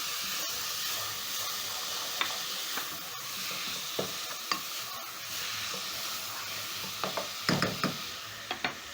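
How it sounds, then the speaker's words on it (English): Tomatoes cook in a pot of pigeon pea curry with a steady soft sizzle and hiss, broken by occasional scraping stir knocks, with a cluster of them near the end. "So next I'm going to be adding in my tomatoes."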